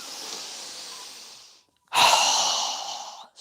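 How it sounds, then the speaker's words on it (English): A deep breath drawn in during a yoga breathing exercise, a steady airy rush that fades out, then after a short silence a second strong, noisy breath burst, heard close and alone with no talking. "So go ahead and inhale."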